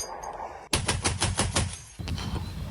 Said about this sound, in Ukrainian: Батько і сином по черзі працювали із крупнокаліберного американського кулемета Браунінг.